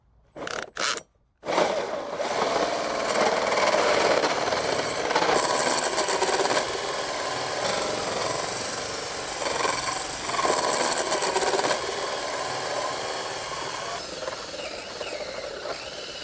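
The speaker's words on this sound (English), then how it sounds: "This is a 4 1/8 inch hole saw." A power drill with a 4 1/8 inch hole saw grinds steadily through vinyl siding with a rough, rasping whine after a few short starts, continuing for over ten seconds up close.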